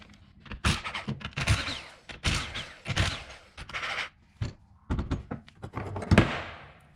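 Impact wrench undoing 19mm differential bolts on a Nissan Patrol during a limited-slip shim job: repeated bursts of harsh rattling hammering, close and loud, separated by short pauses.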